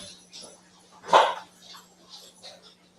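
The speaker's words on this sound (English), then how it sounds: "Here's the dog." A pet dog at home gives one clear close bark amid a few softer yips and whimpers, quiet and intermittent over a low steady hum.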